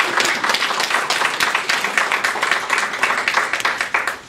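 Audience at a healthcare sector panel at Conestoga College applauds the panelists, with dense, steady clapping from many hands that carries on throughout.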